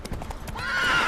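Roach the horse in The Witcher 3: a few quick hoof clops, then a rising, loud neigh that swells toward the end.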